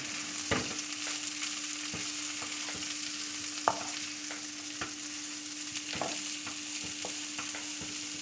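Filling for chicken patties fries lightly in a pan. A continuous sizzle carries regular spatula taps and scrapes, over a low steady hum, with no talking.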